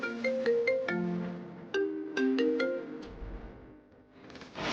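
A phone rings with a melodic electronic ringtone inside a house in a Telugu TV drama scene. Short bursts of notes repeat in two quick phrases, close and moderately loud, and then stop.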